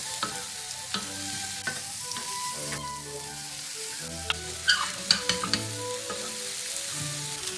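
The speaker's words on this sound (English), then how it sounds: "Now transfer back in your tofu and your eggs." Tofu, eggs and fried rice with soy sauce sizzle steadily in a pan, broken by occasional sharp clinks and scrapes of a utensil stirring, close and continuous with no talk.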